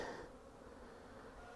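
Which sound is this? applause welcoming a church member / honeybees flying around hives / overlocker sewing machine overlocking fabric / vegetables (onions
honeybees flying around hives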